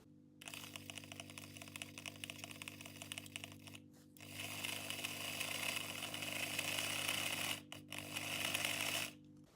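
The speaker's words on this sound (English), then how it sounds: "So maybe we should just put some power onto this motor and see what happens." Small electric motor of a Piko Deutsche Reichsbahn BR95 HO-scale tank engine running under power, a steady close whirring buzz that briefly cuts out and restarts, with a low mains hum beneath.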